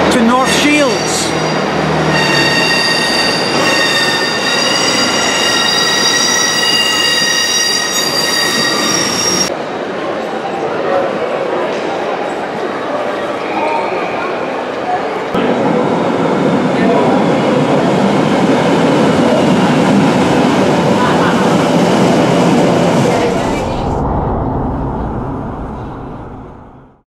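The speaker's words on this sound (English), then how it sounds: "Metro to North Shields." A Metro train runs toward North Shields, loud and close throughout, with the steady roar of the carriage, rail noise and wheel squeal, and a drop in tone partway through before the sound fades at the end.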